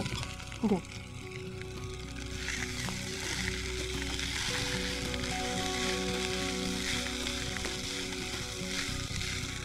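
Cooked rice stirred into a hot pan of seasoning for chitranna, giving a steady sizzle and frying hiss with soft scraping, a brief clink near the start, under a voice talking in Marathi.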